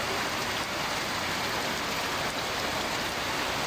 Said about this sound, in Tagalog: Ang lakas ang ulan, oh.